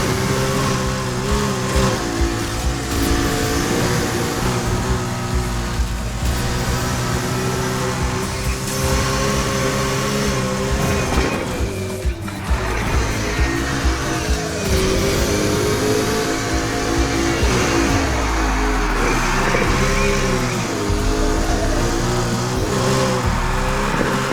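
Porsche 918 Spyder engine in the racing game Need for Speed Heat, revving hard and continuously with shifting tones through gear changes, loud and constant with no talk over it.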